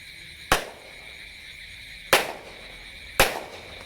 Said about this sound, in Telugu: చూసారు కదా అవి మట్టిలో వేసి పేలిస్తే ఎలా పేలినాయో